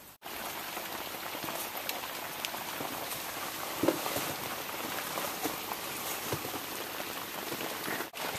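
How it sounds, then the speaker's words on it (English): Hard rain falls steadily by a wide river, a dense, even hiss of drops on surfaces that runs unbroken throughout with no talk. "it's fairly hard rainfall at the moment"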